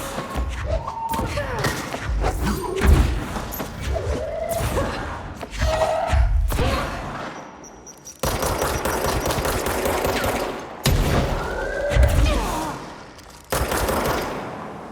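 Objects hurled and smashing during a fight in the video game Control, repeated heavy thuds, crashes and rapid bursts of impact, loud and dense, with brief chaotic pauses.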